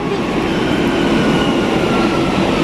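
A train rumbles steadily into a station in Spain, a loud, continuous low roar with rattling wheels and no pauses.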